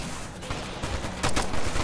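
Gunfire rattles in the video game Ghost Recon: Future Soldier: a dense burst of rapid shots, loud and close, with a heavier volley near the end.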